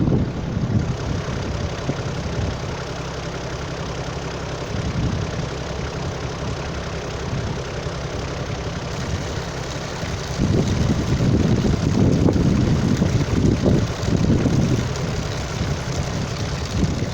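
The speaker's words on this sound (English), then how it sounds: "So I've got the jet pipe still running down there." A jet pipe pump runs steadily while a waterline trench is backfilled, a continuous low engine drone that grows louder and rougher partway through, with no talking.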